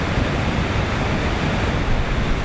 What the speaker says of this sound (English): Lower Falls roars over an ancient flow of lava.